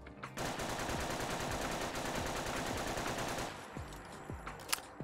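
A BAR M1918A2 rifle in a Fallout 4 mod fires a long, loud full-auto burst of rapid, evenly spaced shots for several seconds, then a few separate single cracks and a mechanical click follow.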